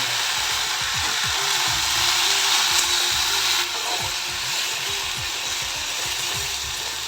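Cumin, black cumin and a pinch of asafoetida sizzle in hot oil as a tempering for jute-leaf dal. The hiss is loud, close and steady, with no voices.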